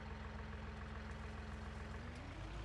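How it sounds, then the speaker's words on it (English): A spray tractor idles in a farming video game, a steady low diesel rumble with a constant hum running the whole time at an even, moderately loud level, with no talking. "we're actually going to jump back in our spray tractor"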